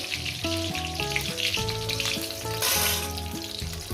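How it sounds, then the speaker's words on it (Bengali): Garlic frying in a pan for a fish and mustard-greens bharta, a steady crackling sizzle running under prominent background music. "এটাকে আমি এক মিনিট ভেজে নেব এক দেড় মিনিট আবার এটাকে আমি রসুনটাকে ভেজে নেব"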